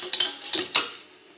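A utensil stirs egg yolks into béchamel in a pan off the heat, giving four quick scraping clinks against the metal and then falling quiet.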